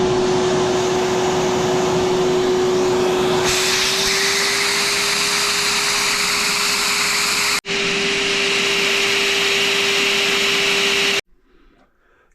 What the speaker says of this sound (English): I'm going to use a vacuum cleaner, believe it or not, to check and make sure the idle circuit works